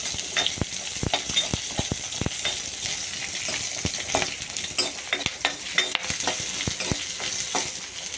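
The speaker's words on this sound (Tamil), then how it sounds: "சின்ன வெங்காயம் போட்டாலே நல்ல வாசனை இருக்கும். இதை நல்லா வதக்கிக்கணும்." Small onions (shallots) with green chillies sautéed for Kerala sadhya sambar, a steady close sizzle broken by frequent sharp scraping and clattering stirs, loud and without voices.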